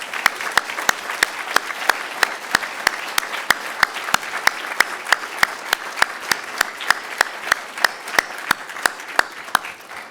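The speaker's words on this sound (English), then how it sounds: "Let's give them one more round of applause." A dinner audience at a financial services event gives sustained applause, a dense steady patter of many hands clapping for about ten seconds with sharp individual claps standing out near the front.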